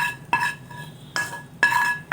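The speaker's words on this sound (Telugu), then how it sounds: "పచ్చళ్ళలో ఇప్పుడు తాలింపు కలుపుతున్నానండి." A spoon mixes tempering into lentil chutney in a bowl, with three sharp metallic scrapes and clinks against the bowl, close and clear.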